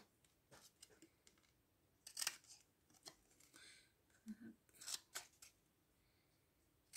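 Scissors snip paper in a quiet room, a run of soft, close, crisp cuts arriving in uneven clusters with short pauses between them.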